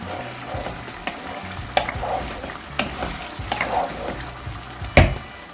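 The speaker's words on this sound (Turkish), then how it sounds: "Şöyle hafif bir karıştıralım." A spoon gently stirs a zucchini and rice dish in a pot, producing soft scraping and a light sizzle, with a few sharper knocks against the pot, no voices.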